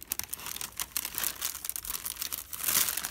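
Parchment paper crinkles in a craft session while a paintbrush works paint onto a Rolodex card, giving a run of close, rustling crackles that swell louder toward the end, with no voices.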